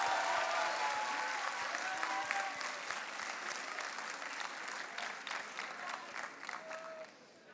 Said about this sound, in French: on peut l'applaudir doublement pour ça